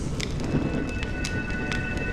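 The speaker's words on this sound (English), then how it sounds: "When will this rain ever stop?" Rain falling steadily in the Honkai Star Rail video game, with rumbling thunder in a dense, continuous wash and scattered sharp drop hits, with no one speaking.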